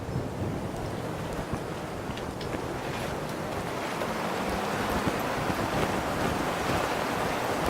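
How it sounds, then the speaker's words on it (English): Wind rushing steadily in a flight video game, joined by a flapping flag, the roar growing fuller and louder over the run with no talk. "as I accelerate and slow down, there's more of a wind, and I added kind of a flag flapping sound"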